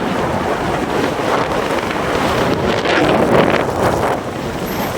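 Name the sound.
strong wind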